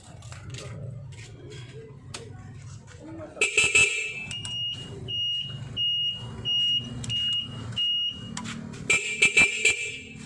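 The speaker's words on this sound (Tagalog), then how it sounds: "Lakas ng busina" A loud horn sounds in a series of short repeated blasts with a steady pitch, standing out over engine rumble and background traffic.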